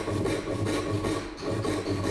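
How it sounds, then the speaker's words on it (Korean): A hand saw cuts the mortise side of a traditional Korean wooden joint with steady, rhythmic back-and-forth rasping strokes, close and continuous. "톱질을 하는 과정입니다."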